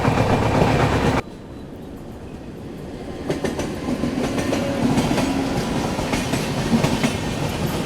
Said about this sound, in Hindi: डिब्रूगढ़ राजधानी के साथ दोस्तों यहाँ पर अपनी क्रॉसिंग हो रही है